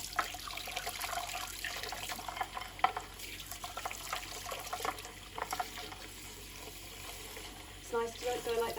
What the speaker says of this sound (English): And then just give them a really, really good rinse like this.